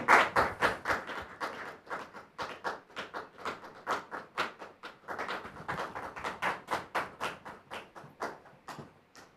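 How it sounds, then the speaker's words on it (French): A studio audience claps steadily in sustained applause to welcome a woman guest onto a French-language talk show, dense overlapping hand claps at a moderate, even level with no voices. "Je voudrais vous demander de la recevoir sous vos applaudissements"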